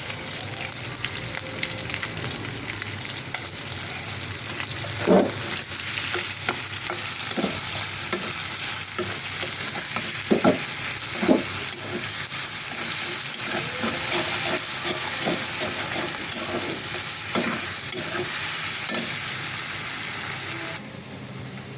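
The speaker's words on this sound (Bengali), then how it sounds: "লাল করে ভেজে নিলাম, দিয়েছি লবণ, পেঁয়াজ।" Onions and salt sizzle steadily in a pan where prawns have already been fried until red, while a utensil scrapes and clacks against the metal in irregular stirring strokes. The frying stays close and continuous, with a constant hiss throughout.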